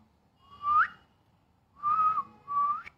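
A person whistles three clear rising notes, the first alone and the last two close together, near and fairly loud over quiet background.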